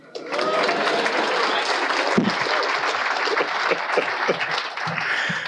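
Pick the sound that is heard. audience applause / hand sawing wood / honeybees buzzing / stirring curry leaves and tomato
audience applause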